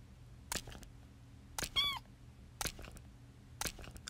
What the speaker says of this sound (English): Blue eyed cat.